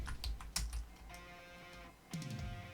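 Keys clack on a computer keyboard as a password is typed at a login screen, a few quick close taps in short clusters separated by pauses, with no talking.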